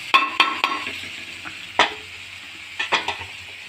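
Soaked mung dal stirred in a hot pan, producing a series of sharp clattering scrapes and taps from the spoon over a low sizzle, several strokes spaced irregularly and close by.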